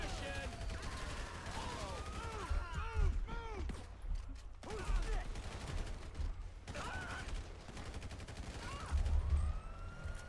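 Police sirens wail and gunfire crackles in a shootout in the video game GTA V, with rising and falling siren sweeps and bursts of shots repeating throughout, loud and close.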